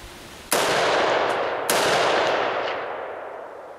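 Two loud, close gunshots fired at zombie targets, each a sharp crack with a long ringing decay, about a second apart, with no talk.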